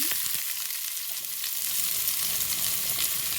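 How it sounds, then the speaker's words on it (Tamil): Mustard seeds, fennel, fenugreek and onion hit hot oil for a carrot and bean curry, making a dense, even sizzle with faint scattered pops, close by and without talk. "இப்போ எண்ணெய் சூடாயிது கொஞ்சம் கடுகு போடுவேன் கொஞ்சம் பெருஞ்சீரகம் வெந்தயம் கொஞ்சம் வெங்காயம்"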